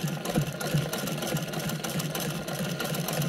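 A vintage sewing machine stitches a bag, running with a steady, fast mechanical clatter and motor hum at close range and moderate loudness throughout, with no talking.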